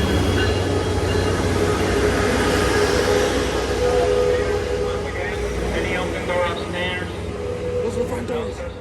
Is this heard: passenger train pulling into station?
yes